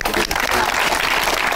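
Brief burst of audience clapping on a comedy television episode, loud and close, mixed with voices and cheering.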